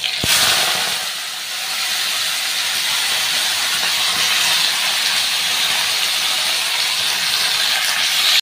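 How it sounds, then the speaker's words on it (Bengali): Vegetables and tomato pieces hit a hot pan with a sharp initial crackle, then a loud, steady sizzling hiss continues close by with no voices. "কয়েকটা টমেটো টুকরো দিয়ে দিলে এবার এই সবজিটা এখানে ঢেলে দেবো।"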